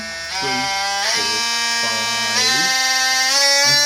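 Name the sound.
oscillating multi-tool running at top speed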